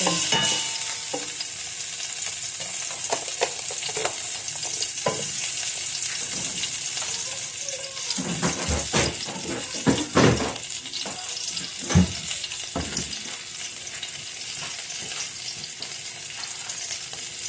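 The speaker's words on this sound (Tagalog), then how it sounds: "Bigisan natin sa maraming sibuyas" Onions sautéing in butter in a pan while cooking freshly harvested pechay, a continuous sizzle with scraping stirs and clinks of a spatula against the pan.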